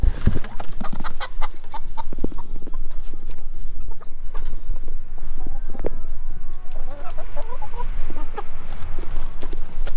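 Chickens cluck and peck while eating old pears, with rapid, scattered clucks and short knocks at close range throughout, no talking.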